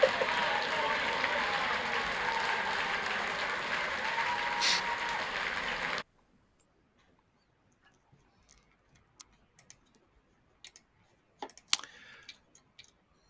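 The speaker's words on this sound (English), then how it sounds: "and a round of applause, please." Applause from many unmuted participants at a virtual university graduation fills the first six seconds as a thin, steady clatter, then cuts off abruptly, leaving near silence broken by a few faint scattered ticks and clicks.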